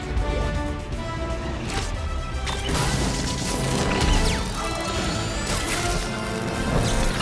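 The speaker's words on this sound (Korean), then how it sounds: "런던에 도착한 피터는 우선 쿠엔틴의 영사기들을 박살내며 싸움을 시작합니다" Projectors being smashed during a fight scene in Spider-Man: Far From Home, a run of loud crashes and whacks with splintering debris and mechanical clatter, repeated hits over several seconds.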